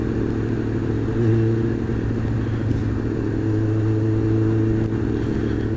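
A motorcycle engine runs close by with a steady, throaty rumble and a slight rise in revs partway through. No one speaks.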